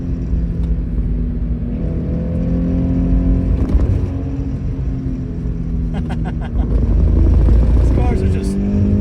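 A Toyota GR86 or Scion FR-S sports car engine drones and revs steadily between about 3,000 and 5,000 rpm on a track, loud and close, swelling louder near the end, with a voice talking over it at times.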